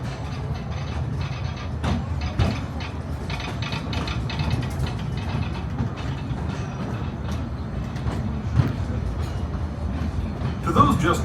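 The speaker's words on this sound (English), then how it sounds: "welcome aboard the Disneyland Railroad" The Disneyland Railroad train rolls along its track at the Disneyland theme park with a steady, continuous rumble and rhythmic clacking of wheels, close and fairly loud throughout, with faint voices in the background.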